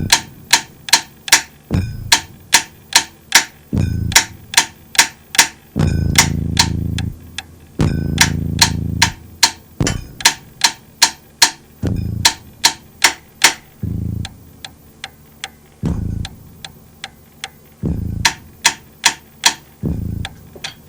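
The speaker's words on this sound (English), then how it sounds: "the actual inside of the Rhodes sounds like that" Inside of a Rhodes electric piano picked up directly, giving a dry, rhythmic run of sharp mechanical clicks and taps from the keys and tines, with a few heavier thudding notes, loud and close throughout.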